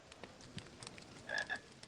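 Faint, quiet frog croaks from a Harry Potter and the Philosopher's Stone video game, a couple of short tonal calls over soft ambient patter, with no talk.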